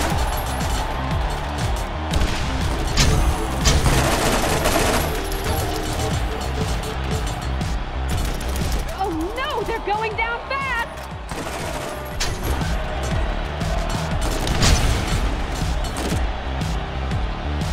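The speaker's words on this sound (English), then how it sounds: "It's time for the combat rifle challenge." Combat rifle gunfire in Borderlands during Mad Moxxi's Underdome Riot arena challenge on PS3, steady close bursts of rifle shots mixed with distant battle noise and occasional in-game voices.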